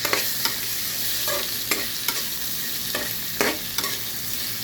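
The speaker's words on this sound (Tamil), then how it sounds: "தக்காளி வதங்கட்டும்" Tomatoes sautéing in a pan for a carrot mor kuzhambu: a steady close sizzle broken by several sharp scraping stirs of a spoon against the pan, with no voices.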